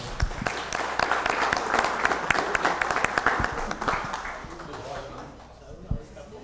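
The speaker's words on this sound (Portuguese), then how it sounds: "Sejam muito bem-vindos, nosso aplauso." An audience at an interclub club meeting claps in a burst of applause that rises and then fades out, while a voice speaks over the clapping.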